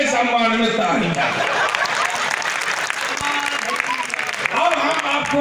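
Audience applause at a poets' gathering during a historic Ramlila fair, loud and sustained, with a voice speaking over the clapping.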